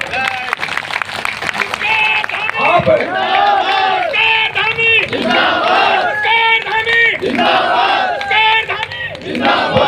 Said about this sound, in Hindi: ऐसे पुष्कर सिंह धामी जी के लिए जोरदार तालियां